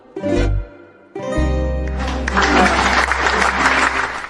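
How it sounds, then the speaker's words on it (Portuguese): A sung note ends, then a crowd breaks into sustained applause, clapping densely and loudly for several seconds while a low tone lingers underneath. "As palmas também são para a Sandra"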